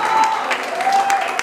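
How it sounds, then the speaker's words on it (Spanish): Applause for birthday girl Claudia at a celebration with a youth mariachi band, a dense, steady clapping from a small crowd with a voice heard over it. "aplauso muy fuerte que sea para ella"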